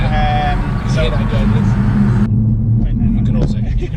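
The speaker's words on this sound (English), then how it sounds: "you can also hear the road" Continuous low road rumble and tyre noise inside a moving car fitted with a sports exhaust, steady and loud throughout, with a voice talking over it.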